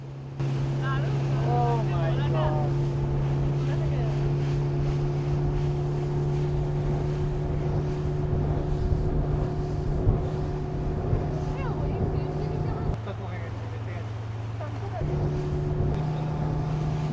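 A speedboat runs at high speed on open water, its engine droning loud and steady with a constant hum and wind buffeting the microphone; the drone briefly drops in pitch near the end, and voices are faintly present.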